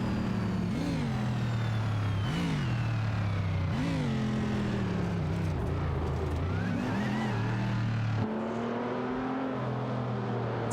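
Engines drone through a video game race, with Jaguar F-Type Project 7 and Porsche 911-997 Turbo cars among the field. A steady high whine rises and falls in repeated pitch sweeps as cars shift and accelerate, close, without talk.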